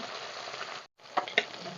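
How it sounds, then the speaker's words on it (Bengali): Pieces of rohu fish fry in a pan with a steady broadband sizzle, briefly cut off near the middle, then resuming with a few sharper spatters and crackles; close and moderately loud, no voices. "এগুলো কালার করে মাছগুলোকে ভালো করে ভেজে নেব"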